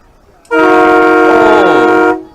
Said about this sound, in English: the train horn.